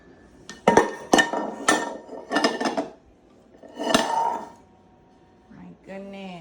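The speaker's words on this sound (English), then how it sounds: "Why are you getting mommy's pots and pans out?" A child pulling pots and pans out of a kitchen cupboard, several loud metallic clangs and clatters in quick bursts, then a pause and a faint voice at the end.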